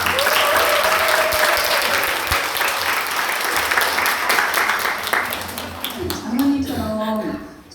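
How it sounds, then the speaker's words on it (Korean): Church gathering audience claps to welcome a testimony: thick, sustained applause for several seconds, tapering near the end as a few voices and a short tonal sound come through. "자, 이어서 우리 이권사님의 간증을 박수로 모시도록 하겠습니다."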